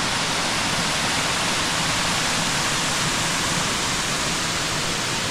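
Erawan Falls in Thailand pours in a loud, dense, continuous rush of falling water, steady and close with no breaks and no voices.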